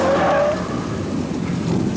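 A race car on a driving-school circuit spins under braking, with a steady engine drone and a short tire skid, heard loud and close for a couple of seconds.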